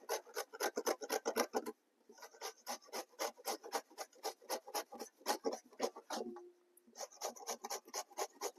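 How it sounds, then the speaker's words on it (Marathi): A peeled homemade mango is grated against a metal grater for muramba in quick, close, rhythmic rasping strokes. The strokes come in runs broken by short pauses, with a brief clink near the end. "आता मी त्याला किसून घेणार आहे."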